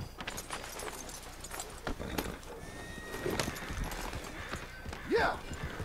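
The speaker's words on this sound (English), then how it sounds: "All right, let's get on our horse, Arthur." Horse hooves clip-clop at an irregular pace in the video game Red Dead Redemption 2, and a horse whinnies near the end, with some talking mixed in.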